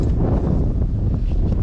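Strong outdoor wind buffets the microphone in a steady low roar for the whole moment, loud and continuous, while work goes on under a 2005 Chevrolet Silverado 3500 with a leaking power steering hose.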